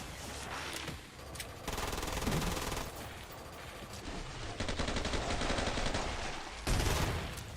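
A gun in the video game Doom 2016 fires rapid automatic bursts, loud and close, in repeated streams with brief gaps between them, under a dense wash of game noise.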